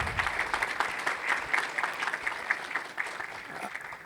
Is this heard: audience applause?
yes